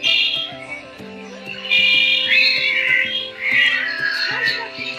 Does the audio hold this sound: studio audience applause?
no